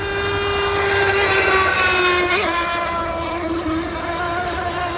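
A radio-controlled scale unlimited hydroplane racing boat screams across the water, its engine a loud, continuous high-pitched whine with shifting pitch as it holds speed through a turn.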